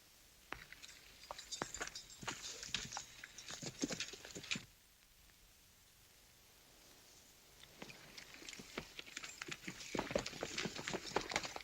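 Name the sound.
horse hooves clip-clopping while walking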